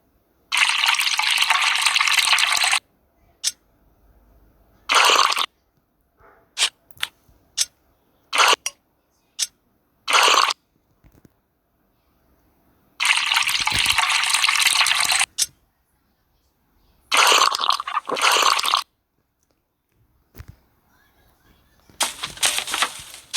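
A tap runs in bursts during washing, loud hissing streams switching on and off several times, with short splashes and clicks in the quiet gaps.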